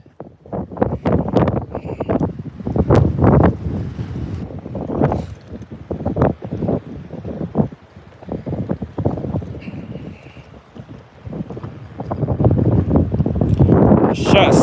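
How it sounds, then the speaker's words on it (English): Strong wind on a lake during bass fishing from a boat, with heavy gusty buffeting of the microphone close up and someone talking over it throughout. "are you guys enjoying this wind?"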